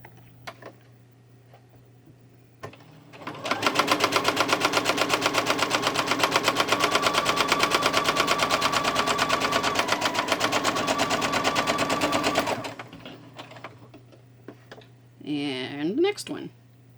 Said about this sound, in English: I'm going right through that space in my foot. And I'm just going to sew that down.